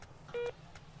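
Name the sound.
telephone call being dialed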